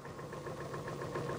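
A Porsche Diesel tractor engine laboring up an 18% slope while hauling a heavy spreader load, a steady, close, rhythmic mid-pitched chug with a knocking pulse and no voices.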